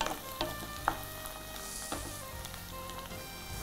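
Garlic sautés in hot oil over a medium flame, right after mustard seeds have spluttered. A steady, close sizzle hisses throughout, broken by a few sharp pops and light clinks, with no voices.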